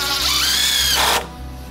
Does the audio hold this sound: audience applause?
no